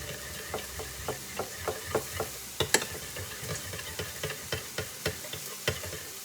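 A spoon stirs a pinch of ginger seasoning into orange chicken sauce in a pan, making quiet, rhythmic scraping taps about twice a second over a faint low simmer.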